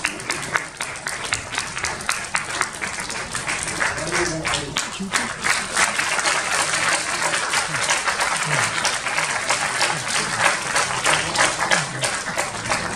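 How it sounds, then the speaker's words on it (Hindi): An audience at the inaugural evening of a Sindhi music concert claps loudly, a dense, sustained burst of applause with sharp individual claps running continuously for about thirteen seconds. "जोरदार तालियां."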